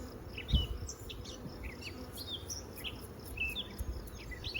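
Honey bees buzzing around a hive frame outdoors, a soft continuous drone of many wings with faint passing buzzes, no talking.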